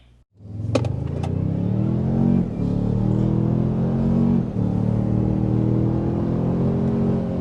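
A 2025 Toyota Sequoia Capstone accelerating hard past 60 mph, its engine note a steady, loud rising drone with harmonics climbing through two gear changes, heard from inside the cabin with no talking.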